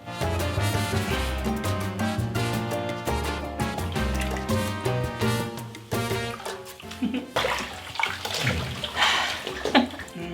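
Bath water sloshes and splashes in a foamy bathtub as someone dips in, a continuous close, busy wash of watery splashes and swirls with brief drips, no talk over it.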